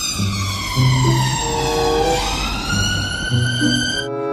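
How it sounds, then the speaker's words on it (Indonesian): A toy ambulance siren wails, rising and falling loudly and close, over a low rumble, then stops abruptly near the end. "Yang ini ada mobil ambulans."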